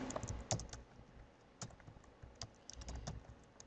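ASP.NET code typed on a computer keyboard, a close series of irregular key clicks with short pauses between bursts.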